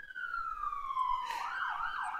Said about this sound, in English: there's a siren in real time, an actual siren.